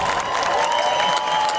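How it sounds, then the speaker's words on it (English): Sustained applause from a crowd outdoors at a Ford community celebration at Michigan Central Station, steady and dense, echoing off the empty building. "the sound of applause bounces off this empty building"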